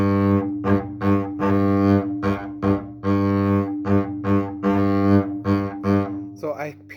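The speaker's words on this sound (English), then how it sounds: "So if I do the bowing without any fingerings, it sounds like this." Double bass bowed on open strings without fingerings, in a slur separate pattern with staccato dots, repeating short bowed notes in an uneven rhythm with a brief breath or voice at the end.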